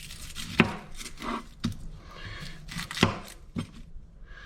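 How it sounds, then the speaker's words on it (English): A knife julienning onions on a cutting board for pasta pomodoro gives close, distinct knocks at an uneven pace, about six sharp strikes with soft slicing in between, with no voices. "The first step is to julienne some onions."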